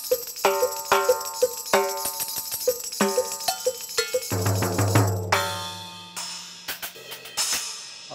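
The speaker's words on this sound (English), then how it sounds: "Here I have all these cymbals stacked, but I love the way this sounds." Stacked cymbals on a large drum rig, struck in quick clanky, trashy rhythmic patterns, close and bright, joined midway by a low sustained drone and longer washy crashes, no talk.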